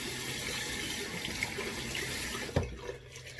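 A bathroom tap runs in a steady, close hiss while water is splashed onto the face, ending with a brief knock as the flow eases.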